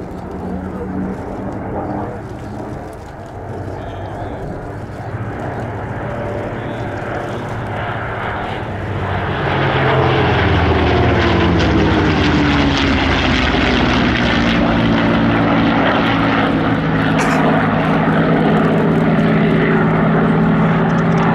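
At an English airshow, a Lockheed P-38 twin-boom fighter's two piston engines hum in the distance, then surge louder as it passes with a sweeping pitch change, while a voice talks over the sound.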